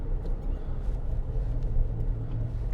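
A worn wheel bearing on a 2008 Land Rover Discovery 3 2.7 TD V6 drones as a steady low rumble while driving, continuous and moderately loud inside the cabin, with no talking.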